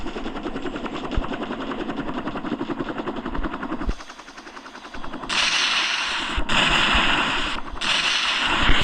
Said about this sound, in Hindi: अब इन पे बम गोले बरसाऊंगा।